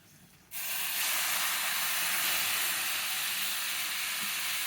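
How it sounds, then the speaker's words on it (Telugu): Hot water hits roasted semolina with a sudden loud rush of sizzling steam that starts after a brief quiet moment and keeps hissing strongly to the end, close up with no voices. "ఇది వేయించుకొని ఇప్పుడు వేడి నీళ్ళు వేయాలి."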